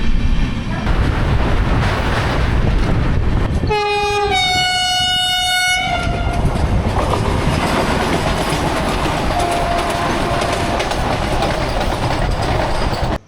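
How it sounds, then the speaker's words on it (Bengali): Amrit Bharat Express running slowly through Bardhaman station, loud continuous rumble and clatter of wheels and carriages, broken by a sharp two-tone horn blast lasting about two seconds before the rolling noise resumes. "তো ট্রেন আমাদের বর্ধমান ক্রস করছে, 2 নম্বর প্ল্যাটফর্ম দিয়ে ট্রেনটা স্কিপ করবে।"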